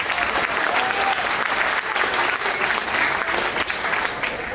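Sustained, loud audience applause fills a comedy mimicry show, steady and dense throughout with no break.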